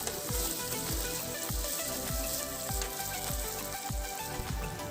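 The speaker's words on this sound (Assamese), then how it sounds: "এনেদৰে অলপ দেৰি ভাজি ল'ব লাগিব" Marinated mutton pieces frying in a pan for an Assamese-style curry, a steady loud sizzle with rhythmic scraping strokes of a spoon throughout.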